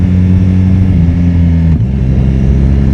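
A BMW R1200 Rally motorcycle engine runs loud and close with a steady rumble, the pitch dipping sharply as the auto-shifter changes gear partway through, no voices.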